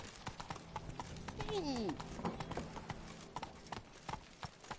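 Hooves of the horse Roach clip-clop steadily in a video game, close and clear, with a brief whinny-like rising tone and a short exclamation from a voice mixed in.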